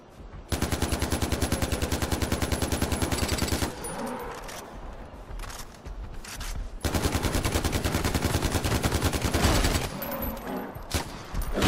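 Sustained bursts of AK rifle fire in Far Cry 4, loud and rapid, come in two long automatic strings separated by a quieter gap with scattered shots, and no talk over them.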